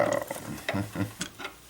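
A wrench cranking a DIY machinist jack, giving short ratcheting clicks and metallic grinding strokes in an uneven rhythm, close and fairly quiet.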